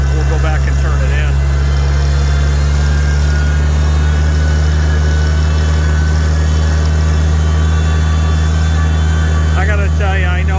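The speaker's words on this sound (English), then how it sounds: "these tractors drink a lot of gas, but boy, they sound good when they're working." A heavy Farmall 756 tractor engine rumbles steadily at close range during field work, a loud, continuous low drone with a few faint higher noises over it.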